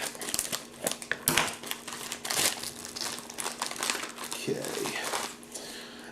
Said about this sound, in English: let's go ahead and open the accessory pack here.